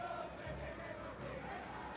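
A lively football stadium crowd at an FC Naples versus Chattanooga Red Wolves match roars faintly and continuously from a distance, a soft, steady wash of many voices.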